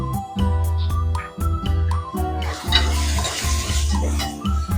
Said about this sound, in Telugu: 1 స్పూన్ పసుపు వేసుకొని ఫ్రై చేసుకోవాలి.